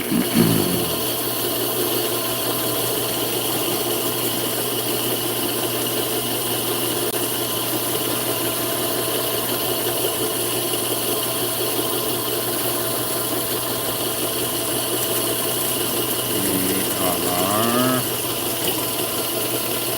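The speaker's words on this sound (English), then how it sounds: "we're spooling reels already, getting line capacities going" Fishing reels, an Accurate 50W among them, are spooled with 100 lb line topped with 130 lb hollow line, producing a steady, loud, continuous mechanical whir and hum that runs unbroken for the whole stretch, with no speech.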